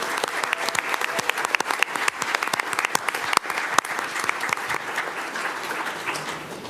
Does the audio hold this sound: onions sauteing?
no